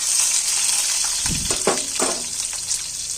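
Chopped onions sizzle in a pan for egg curry, a steady hiss with scattered bursts of spatter and stirring in the middle, close and fairly loud.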